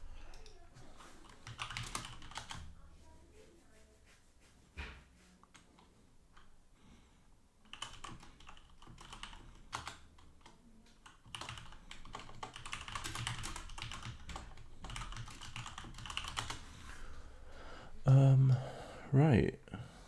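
Steady clattering keystrokes on a computer keyboard run throughout, fairly quiet and close, while people talk over them during a session of the online game Eudemons Online.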